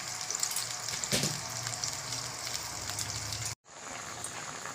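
Potatoes added to a small amount of water flavored with fried onions start to boil in a pot, giving a steady close bubbling and hissing, like a soft sizzle, that cuts out abruptly near the end.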